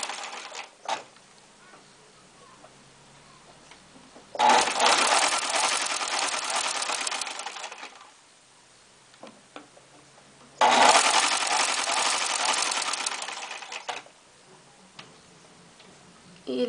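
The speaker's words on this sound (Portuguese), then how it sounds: "Lembrando que você vai esticando novamente para costurar." Sewing machine stitching elastic onto shorts, running in two bursts of rapid steady clatter of about three to four seconds each, separated by quiet pauses with faint handling clicks.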